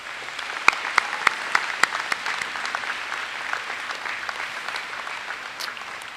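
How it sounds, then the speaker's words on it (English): Graduation crowd at John Abbott College applauding an award winner, with a few loud nearby claps standing out early over a sustained wash of clapping that gradually thins. "I would like to hear a big hand of applause for the winner of the Outstanding Achievement Award"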